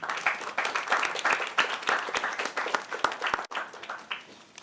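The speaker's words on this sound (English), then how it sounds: "A big round of applause to our panelists" Audience applause for a panel of speakers at a discussion event on cities and dignity, a dense sustained clapping from a sizable crowd with sharp individual claps standing out, fairly loud and continuous with a brief dip near the end.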